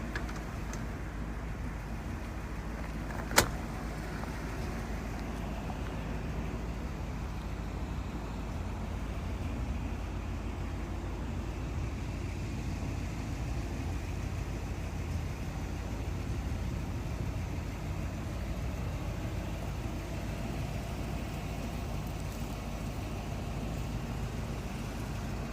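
A 1959 DeSoto Firesweep Seville idles in a low, steady, even rumble that holds unchanged from start to finish, with a single sharp click partway through and no voices.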